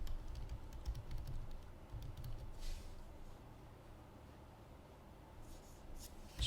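Quiet, close keystrokes on a computer keyboard tap out a link in a soft, uneven rhythm over faint background hum, with no voice.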